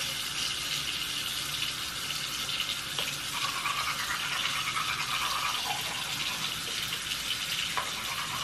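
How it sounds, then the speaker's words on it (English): Close, soft scrubbing of a toothbrush during a nighttime routine, continuous bristle brushing with light watery swishing and a faint tap or sink sound in the background, no talking. "we're just gonna start by brushing my teeth"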